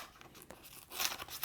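Packaging for a OnePlus 6 case being torn open, a quick burst of crinkling and tearing plastic with small crunches, close and fairly quiet.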